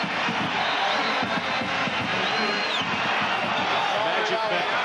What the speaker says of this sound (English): And this crowd is just everybody standing.